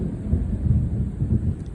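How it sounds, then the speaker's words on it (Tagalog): Thunder rumbles low and continuous over a village in the afternoon, a heavy rolling growl that swells and eases without break, with no voices over it. "Kumukulog-kulog pa."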